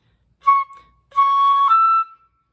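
A flute plays two short notes, a brief one then a longer held tone that bends slightly higher before stopping, clear and alone.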